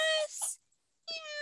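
A cat meows twice, a fairly clear, close call followed after a short silence by a second, similar meow.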